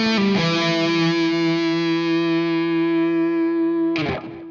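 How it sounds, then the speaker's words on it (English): A guitar note is held with violin- or cello-style vibrato, the finger rocking along the string so the pitch wavers gently. The note rings bright and sustained for about four seconds before a fresh pluck, with no talking. "the second one is what I call a violin or cello vibrato"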